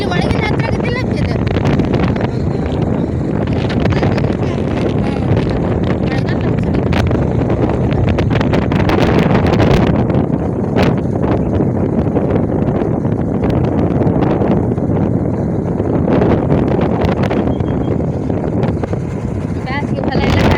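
Wind rushes steadily in through an open train window, a loud continuous buffeting roar with rattling carriage noise throughout, with no clear speech.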